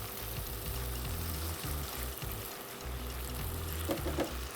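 Beef sizzles and fries in a sauce with sesame seeds in a pan, a continuous close crackling hiss with a few stirring bumps and no talking.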